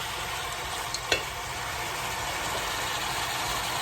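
Goat meat for curry goat browns in a hot Dutch pot with a constant, close sizzle. A single clink from turning the pieces sounds near the start, and there is no talking.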